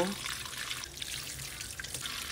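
Pork knuckles being washed in water, a soft continuous splashing and trickle like running tap water, quiet and close, with a faint voice at the very start.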